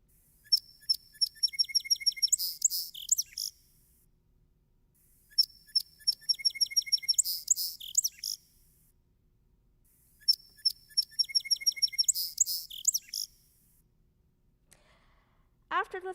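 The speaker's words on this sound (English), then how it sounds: "And next is song sparrow." Song sparrow song repeated three times, each opening with a few sharp introductory notes then a rapid buzzy trill and jumbled ending, clean with pauses between, followed by a brief human sigh.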